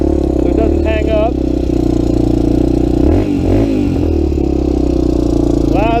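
Honda 350X motorcycle engine fitted with a 400EX carburetor runs loud and close, a steady rumbling idle with blips of revving and a rattly clatter throughout.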